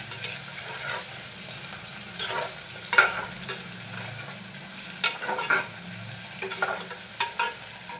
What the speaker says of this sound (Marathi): आता अद्रक लसूण पेस्ट टाकूया. ती पण चांगली भाजून घेऊया आपण.